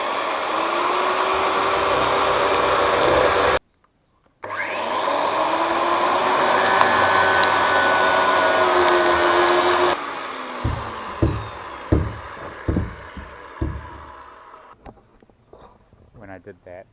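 Angle grinder cutting fittings off the hull of a Pahi 31 boat, a loud close whine running steadily, cutting out briefly and restarting, then spinning down into a series of separate knocks and clatters.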